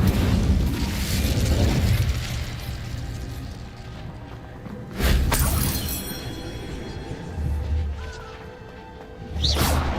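Hogwarts Legacy Incendio fire spell bursts in loud, booming whooshes, three or four heavy hits spread through the stretch with crackling impact noise between them and no talk.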